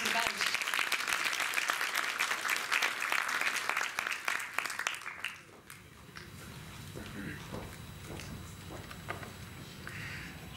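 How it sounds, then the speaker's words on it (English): Audience applause welcoming a professor before a lecture, dense clapping that runs for about five seconds and then fades into scattered claps and shuffling as a voice begins speaking. "Give him a warm applause"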